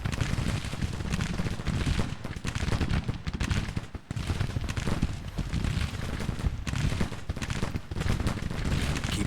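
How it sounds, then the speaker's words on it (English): Heavy rifle fire from Civil War infantry in a video game, a relentless crackle of overlapping shots and rumbling volleys, loud throughout with one brief dip before the firing surges back. "Your rifle's firing."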